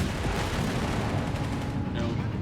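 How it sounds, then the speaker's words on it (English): Artillery barrage in the World War II strategy game Company of Heroes 3, Afrika Korps against US forces, a dense continuous roar of shell blasts and rumbling impacts filling the whole moment. "Another barrage straight out of hell here against Latvians"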